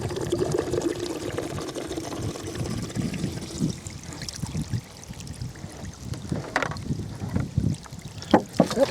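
Water poured out of a jug holding a spent .308 Winchester bullet, an irregular trickling and splashing that grows into louder gurgles and drips toward the end, close and moderately quiet.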